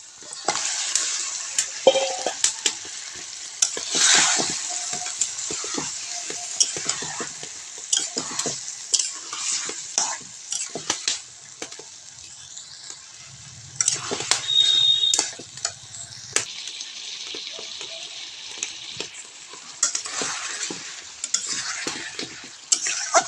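Washed chicken pieces sautéing in a cooked spice masala in a pan, stirred repeatedly: close sizzling and frying hiss punctuated by frequent scraping and clattering spoon strokes, no talk.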